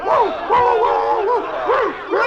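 Dogs barking and yipping in a string of excited, overlapping calls with a whimpering edge, loud and close, in a dramatized pirate attack on a fort.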